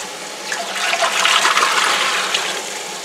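Water pours steadily into a 23-quart Presto pressure canner, a loud continuous rushing splash that swells in the middle and holds to the end, with no voices.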